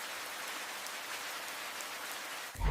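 Rain falling in the African wilderness, a soft steady patter of drops on the ground throughout, with a brief louder low thump at the very end.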